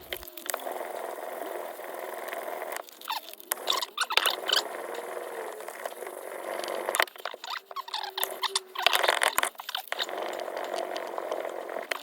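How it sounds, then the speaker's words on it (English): Emery cloth wrapped around a block of wood is rubbed briskly over a cast metal hammer head in a shed, a steady, close scratchy rasping that keeps up through most of the stretch with a few brief pauses. "Now moving from that to a bit of the good old-fashioned elbow grease and emery cloth."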